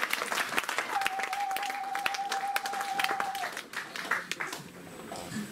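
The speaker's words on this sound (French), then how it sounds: "Allez, donnons une belle acclamation." A church congregation applauds during a French-language sermon, steady mid-level clapping throughout with a sustained tone running through the middle and the clapping tapering off near the end.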